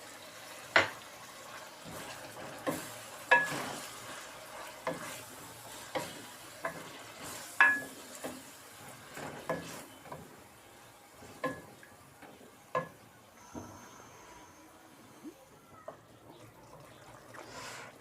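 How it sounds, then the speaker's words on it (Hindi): Vegetables frying in a pan for a Chinese-style vegetable dish: a quiet background sizzle broken by about a dozen sharp, close clicks and scrapes from stirring, spaced irregularly. "तीन से चार मिनट ये फ्राई हो जाए"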